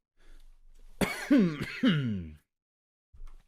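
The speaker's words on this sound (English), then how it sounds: "I have had a bit of a cough" A person clears their throat and coughs in a short burst of two or three harsh, close, fairly loud hacks, with quiet breathing before and a faint rustle after.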